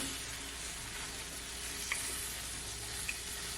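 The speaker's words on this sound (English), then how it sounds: "I'll put these asparagus in there now" Asparagus and steak sizzle steadily in a hot pan, a continuous fizzing hiss with a couple of small pops, heard close and alone.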